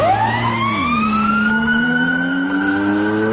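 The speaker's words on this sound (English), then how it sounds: "sirens and humming engine approaches a pass" AI-generated wailing sirens rise and fall over a steady humming engine, loud and close, like traffic passing on a city street, with no voices.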